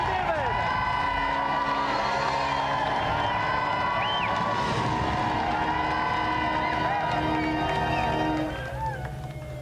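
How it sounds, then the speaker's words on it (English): Studio audience applauds a winning contestant at a video-game show's prize-giving, a steady broad wash of clapping and crowd noise with music-like tones layered over it, fading slightly at the very end. "round of applause there for Lee and"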